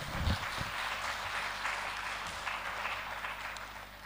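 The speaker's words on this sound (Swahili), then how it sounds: "Makofi mengi kwa VC." An audience applauds the vice-chancellor at a university engineering college golden jubilee ceremony. The clapping is a steady, dense wash that sounds somewhat distant and moderately quiet, with no voices over it.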